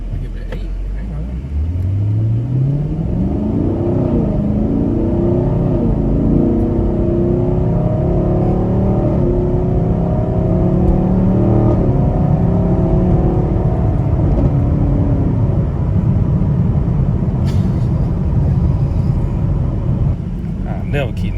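A car's engine accelerates steadily for about fifteen seconds, its pitch climbing through the gears, then settles into a continuous loud road rumble and whir heard from inside the car.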